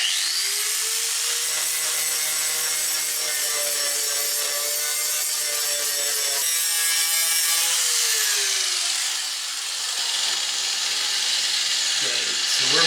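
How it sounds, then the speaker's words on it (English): Power grinder stripping rust and bubbled paint from a Chevy S10 pickup truck door: a loud, continuous high-pitched whine that shifts pitch as it bears down on the metal, then spins down near the end. "I'm going to grind this rust away so I can see a little better what's going on and get rid of this bubbly paint and stuff."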